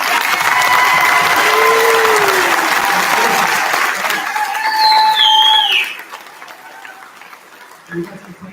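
Applause from a crowd at a kindergarten graduation fills the room, a dense patter of clapping that carries on for several seconds and then fades, with voices and whistle-like tones over it.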